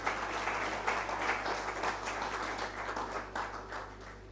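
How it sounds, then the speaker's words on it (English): Audience applause at an insurance brokers association conference in Uganda, a dense sustained clapping from a large crowd over a steady hum, slowly fading toward the end. "I think there are 2 reasons that clap needs to be bigger."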